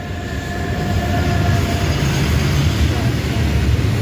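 A train rolls past on railway tracks close by, a loud steady rumble of wheels and cars with faint rail whine lines above it, continuous from start to finish.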